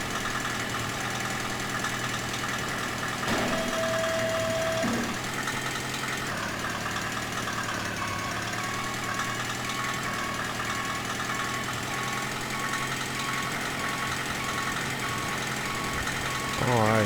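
A heavy snow clearing machine's engine drones steadily at idle with a low knocking rumble, a brief reversing-style beep partway through and wind noise throughout.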